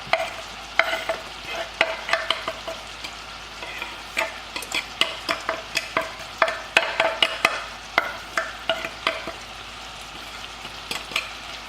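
Onions cooking in a pan for a high-protein meal, with a close, steady sizzle and a rapid run of clicking, scraping strokes as they are stirred.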